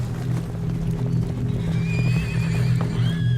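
A herd of horses, about thirty ridden by riders arriving in a cloud of dust, rumbles with continuous hoof thuds while several loud whinnies rise over the thunder of hooves in the second half.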